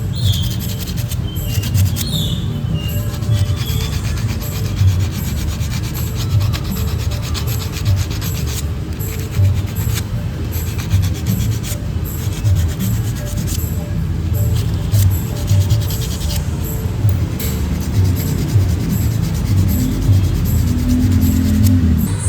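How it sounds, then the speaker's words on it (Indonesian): Continuous dry rasping of sandpaper scrubbing old glue residue off a Honda Beat carburetor engine part, close and steady for the whole stretch, with faint bird chirps in the background. "Sekalian ini mau saya amplas dulu bekas-bekas lem yang lama supaya bersih ya"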